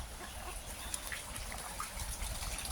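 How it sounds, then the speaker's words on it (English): Water trickling and gushing down a channel into a dug pond, a soft continuous splashing and dribbling flow, faint and steady throughout. "now this water is funneled down to the first pond we built"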